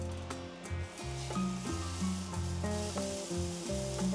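High-protein balls sizzle and fry in a hot pan, a steady crackling sizzle with some scraping and tapping as they are placed and moved, close and alone.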